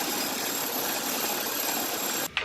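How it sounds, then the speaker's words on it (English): A bandsaw cutting a wooden garboard plank for a boat: a loud, continuous high whine and roar that stops abruptly at the end. "the first garboard was cut out on the bandsaw"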